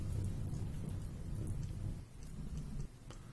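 Steady rain with low rumbling thunder in the video game RimWorld, a dense continuous wash of rainfall over deep rolling rumbles, heard alone without talking.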